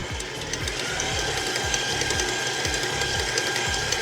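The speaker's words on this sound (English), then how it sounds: "we'll go ahead and turn the mixer up 2 speeds" Electric mixer whipping potatoes with milk, beaters rumbling in a steady rhythmic churn with regular low thumps about twice a second, close and continuous.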